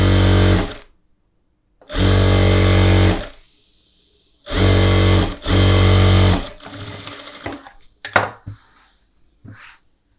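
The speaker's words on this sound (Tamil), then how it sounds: "இப்போ இதை மடித்து நான் தையல் போடுறேன்" A tailor's sewing machine stitches a folded blouse collar lining in loud, close bursts, three long runs separated by pauses, then scattered clicks and handling knocks as the fabric is adjusted.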